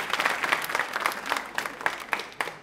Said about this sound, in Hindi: तालियां जोरों से बजाइए, जोरों से बजाइए